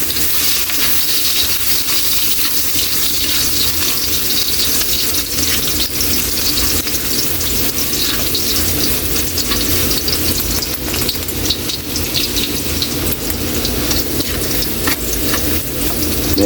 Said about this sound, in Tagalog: Unahin natin, Kaili, yung luya. Gigisahin lang natin ito ng bagya